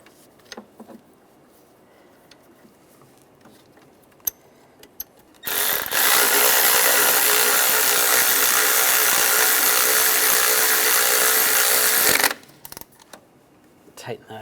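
A power tool or ratchet tightens the knock sensor bracket bolt on a 1996-2002 Toyota 4Runner engine in a steady, loud whirring burst lasting about seven seconds, with quiet handling sounds before and after.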